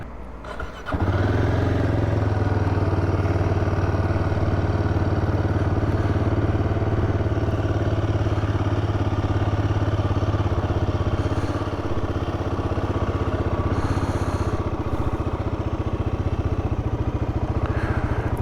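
A Royal Enfield Guerrilla 450 motorcycle engine runs close and loud, with a steady, unbroken throb that holds for the whole stretch and eases slightly partway through.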